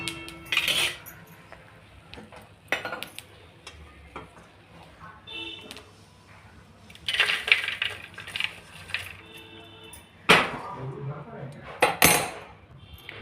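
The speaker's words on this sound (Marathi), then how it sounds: "गॅस बंद करून टाकू. एका प्लेटमध्ये काढून घेऊ." Freshly roasted peanuts are tipped out of the pan onto a plate, with the gas already off. Irregular bursts of rattling and clattering on the plate come up close, separated by quieter pauses.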